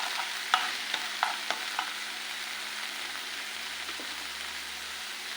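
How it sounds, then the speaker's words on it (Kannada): Masala paste frying in oil for a homemade all-in-one masala, a soft steady sizzle with a few sharp stirring scrapes early on, close and alone. "ಈ ಪೇಸ್ಟನ್ನು ಈ ಆಯಿಲಲ್ಲಿ ಚೆನ್ನಾಗಿ ಹುರಿಸ್ಕೊಳ್ಳಿ ಫ್ರೆಂಡ್ಸ್."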